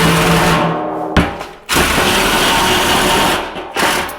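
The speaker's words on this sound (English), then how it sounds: "Will the Sawzall do it?" A Sawzall reciprocating saw cuts into a steel car frame with a loud, continuous buzzing rasp, stopping briefly twice and then restarting.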